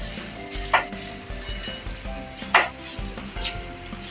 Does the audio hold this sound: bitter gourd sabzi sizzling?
yes